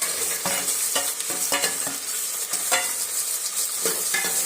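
Chopped big onions sautéing in a pan for a dried-fish (karuvadu) curry, with a loud, close sizzle and frequent rhythmic scrapes and knocks of a stirring spoon.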